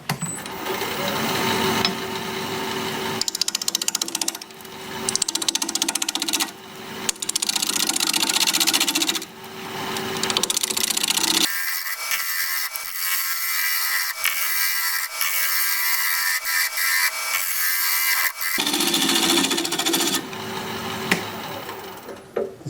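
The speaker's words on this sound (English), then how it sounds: "We're going to be turning at 800 RPM, 5/8 inch bowl gouge" A wood lathe spinning a bowl at 800 RPM while a 5/8 inch bowl gouge cuts in bursts: a steady motor hum with rough, hissing scraping that starts and stops, then a quieter stretch of just the running machine.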